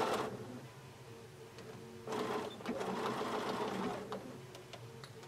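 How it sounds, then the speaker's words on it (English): A sewing machine stitches along the crease of a pillow sham with a back tack at the start, a close mechanical whir that starts, pauses briefly, then runs steadily before trailing off. "we're going to sew on the crease, back tack at the beginning"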